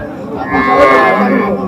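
A Friesian cow moos loudly and steadily for over a second, a long drawn-out bellow close by at a cattle market, with faint crowd murmur behind it.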